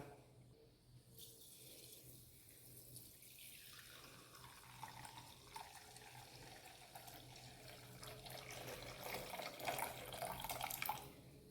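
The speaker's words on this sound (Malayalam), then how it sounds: "നമുക്കിത് വേറൊരു പാത്രത്തിലേക്ക് മാറ്റാം. ബാക്കിയും കൂടെ നമുക്ക് ഊറ്റിയെടുക്കാം." Beetroot wine strained into another vessel, a soft liquid trickle that builds into a fuller, close pour before stopping.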